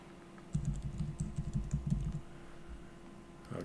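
A search term is typed on a computer keyboard in a rapid run of close, soft key clicks lasting under two seconds, followed by quiet room tone.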